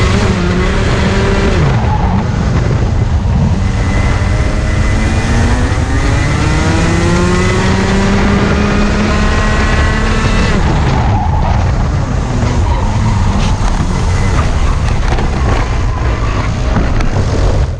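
Racing karts roar loudly and continuously through a kart race, engines revving with rising and falling pitch sweeps, and a brief scuffing clash around the middle as one kart runs over another's rear and exhaust.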